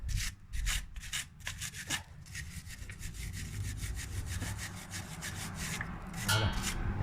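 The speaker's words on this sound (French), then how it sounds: "il faut nettoyer ici correctement avec une petite brosse" Small brush scrubs a car brake caliper clean during rear brake disc and pad replacement, making rapid rhythmic bristly scratching strokes, steady and close, over a low background hum.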